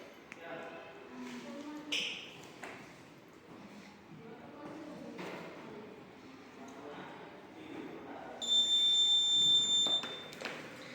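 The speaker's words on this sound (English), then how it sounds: "We also use an alarm for the alarm circuit." A steady electronic buzzer alarm from a student-built micro:bit alarm circuit sounds for about two seconds near the end, over background chatter and room noise.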